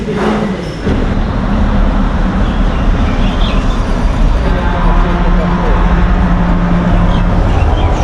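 Metro train ride in Kazakhstan, a loud steady rumble and rolling clatter of the carriage heard from inside, continuous throughout with a brief shift near the start.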